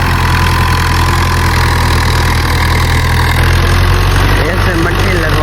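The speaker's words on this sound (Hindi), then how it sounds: "और ये ट्रैक्टर भी सुबह सुबह आ गया है।" A tractor engine idles steadily close by in the early morning at a rural site, a loud continuous low rumble with a constant throb that persists unchanged throughout.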